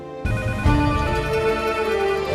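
A telephone rings with a loud electronic ringtone that starts abruptly and carries on steadily, close and clear with no voices over it.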